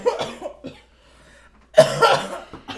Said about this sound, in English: Coughing, bro. Calm down.